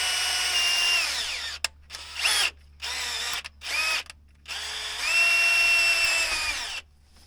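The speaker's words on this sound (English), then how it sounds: "I think I'm going to try to just drill that out" Drill cutting out a threaded hole on a Cadillac, several close bursts of high whining with a squealing bite, the motor starting and stopping in short runs before one longer pull, no talk.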